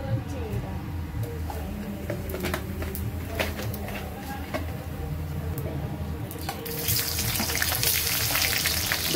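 Steady sizzling of hot oil in a pan while cooking a prawn and jackfruit curry, a continuous frying hiss with scattered crackles and stirring clicks that swells louder near the end.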